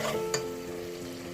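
Dal ingredients with red chili and salt are stirred and fried in a pan, a brief scrape over a soft continuous sizzle with a low background hum, close and quiet.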